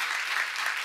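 Congregation applauding during a church sermon, a dense, steady wash of clapping that holds at an even level for under a second with no break.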